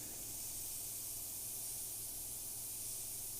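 Airbrush spraying paint, a continuous soft hiss of air and overspray, steady and close, with no breaks.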